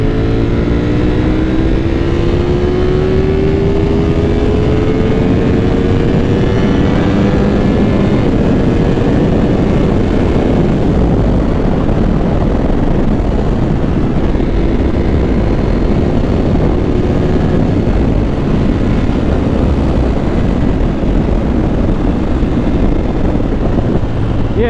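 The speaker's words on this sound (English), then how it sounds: "We're gonna do a little fourth gear pull here." A Ducati Panigale V4 S motorcycle pulls hard in fourth gear from about 5,700 rpm at around 65 mph, its engine note loud and steady and rising in pitch over a constant rush of wind.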